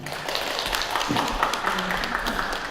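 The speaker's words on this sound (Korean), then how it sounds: "큰 박수로 모시겠습니다" Applause from a student audience welcoming a guest author at a school career-mentoring event, with steady, moderately loud clapping mixed with some voices throughout the short stretch.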